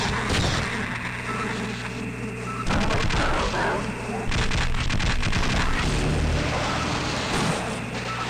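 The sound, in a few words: gunfire from a ceiling turret in the video game Half-Life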